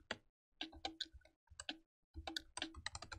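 Fingers tap out quick bursts of keystrokes on a computer keyboard during 3D animation software work. The clicks come close and quiet, in uneven clusters separated by short pauses.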